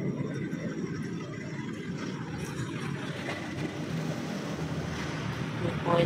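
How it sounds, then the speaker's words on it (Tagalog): Wind blows in a steady, rushing gust, buffeting the microphone with a broad, continuous roar that swells slightly toward the end. "Biglang hangin."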